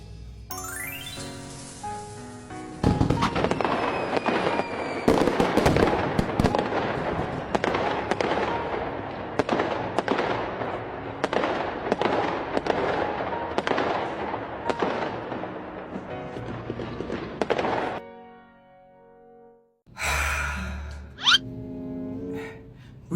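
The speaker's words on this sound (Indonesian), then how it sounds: "bodyguard hidupin kembang apinya sekarang ya" Fireworks being set off in a comedy skit, a long rapid barrage of sharp crackling bursts and pops for about fifteen seconds, then a pause and a few louder final bangs.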